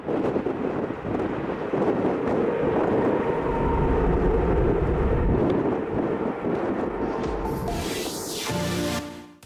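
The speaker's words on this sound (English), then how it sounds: "This Jet2 Boeing battled some nasty Manchester crosswinds and was tilting like crazy on the runway" A Jet2 Boeing jet takes off at Manchester in strong crosswind, a loud sustained engine roar mixed with heavy wind buffeting on the microphone that fades near the end, with no talk.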